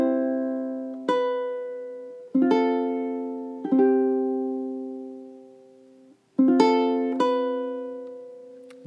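Measures 3 and 4 of The First Noel played fingerstyle on ukulele at a beginner's pace, with soft plucked notes and chords in a steady, unhurried rhythm. Each note rings and decays before the next pluck, and there is no voice.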